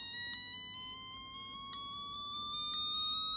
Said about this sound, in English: this is the alarm silent effect, and the sound gradually increases